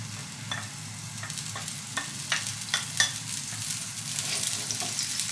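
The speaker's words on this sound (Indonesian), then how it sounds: "bawang merah, bawang putih kita tumis." Shallots and garlic stir-fried in hot oil, with a steady sizzle and repeated clinks and scrapes of a spatula against the pan, close and fairly quiet, with no talking.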